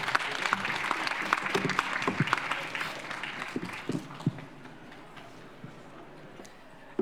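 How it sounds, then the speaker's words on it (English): An audience at a hydrogen case competition finals event claps, dense applause that thins out over several seconds into a few scattered claps. "Let's give them a round of applause."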